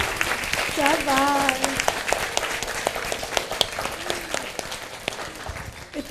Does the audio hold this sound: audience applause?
yes